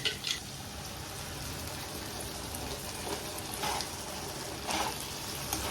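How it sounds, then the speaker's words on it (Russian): A steady wet sizzle of tomato paste frying, with a few soft splashy bursts as water is poured into the hot pan. "И вот в это время я сейчас наливаю немножечко водички."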